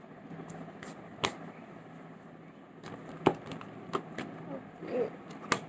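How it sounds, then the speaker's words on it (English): Quiet riffling and soft slaps of thick oracle cards being shuffled by hand, with a few sharper snaps standing out against faint background noise. "It's thick, and I'll try to shuffle with this card."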